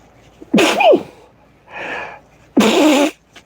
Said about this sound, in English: I got to sneeze like you wouldn't believe